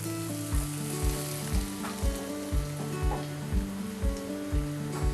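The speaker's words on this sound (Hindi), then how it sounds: "थोड़ी प्याज फ्राई हो गई है" Onions for a masala dosa filling sizzle and fry in a pan, a constant crackling hiss close up. Regular rhythmic low thumps and stirring run beneath it, and no one speaks.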